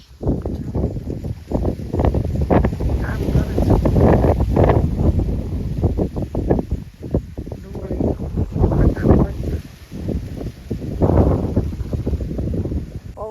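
Strong wind buffets the microphone outdoors, a constant low roar and rustle lasting the whole stretch.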